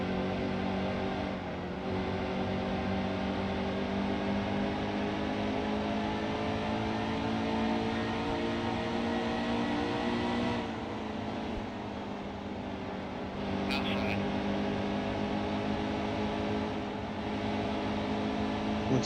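Race car engines from the NASCAR Heat 2 video game in an Xfinity race at Darlington, a steady, loud multi-car drone with layered harmonic whine that holds constant throughout, briefly dipping and swelling as cars run side by side.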